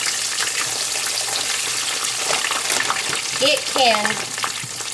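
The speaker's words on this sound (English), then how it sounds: "And it is coming up floating and a sizzling" Homemade french fries bubble and sizzle steadily in hot oil in a pot. The crackle is constant and close, with a few brief whistling tones near the end and a faint word spoken once.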